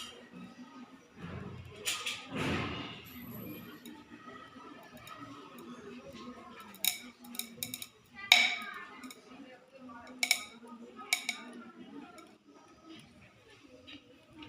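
Heated compound crackling as it breaks down, giving scattered sharp pops and ticks with a few louder snaps over a quiet background, while a voice talks faintly now and then.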